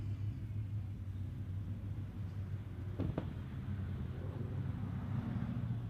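A hillclimb race car with a 4.9 litre BMW engine passes at a distance, a steady low rumble holding throughout with a brief sharp crack near the middle.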